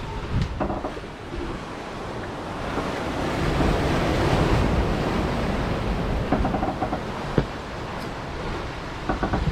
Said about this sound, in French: On a des vagues un peu dans tous les sens, de travers, à l'arrière.